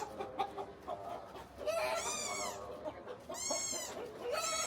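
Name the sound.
hens clucking on rooftop farm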